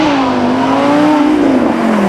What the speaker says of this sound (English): let's keep with the V10, shall we? But we'll take the roof off and see what our Audi R8 V10 can do here.